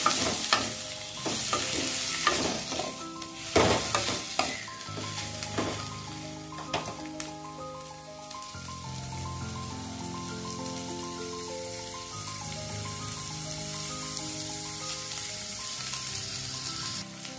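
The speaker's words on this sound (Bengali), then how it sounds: "পেঁয়াজগুলোকে আমি হালকা হালকা করে ভেজে নিয়েছি।" Onions frying in a pan for tomato jhal, a loud, close, continuous sizzle and crackle with repeated stirring scrapes early on, settling into steady frying hiss.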